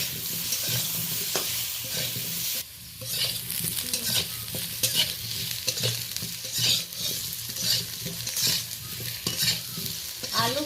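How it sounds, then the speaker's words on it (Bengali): Potatoes seasoned with turmeric and salt sizzle steadily in a pan over low heat, a close, continuous frying crackle broken by occasional stirring scrapes and a brief pause, with no voices. "হালকা আঁচে আমি ভেজে নেব।"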